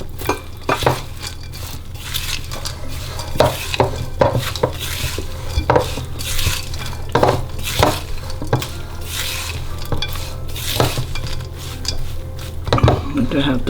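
Christmas pudding batter is stirred and scraped in a bowl as nuts are added, making repeated close scraping and clinking strokes in an uneven rhythm, with a voice talking over parts of it.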